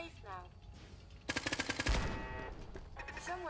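Automated turret machine gun firing in Fallout 4, a short rapid burst of evenly spaced shots following a brief stretch of game noise, moderately loud.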